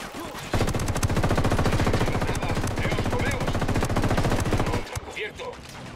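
Sustained automatic gunfire in the Ghost Recon video game: a loud, rapid burst of shots runs for several seconds, then stops abruptly and is followed by a few quieter scattered sounds.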